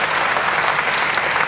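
Dense, steady audience applause fills a launch event for Bandung city's Little Bandung online site, a loud continuous crowd of clapping hands with no gaps.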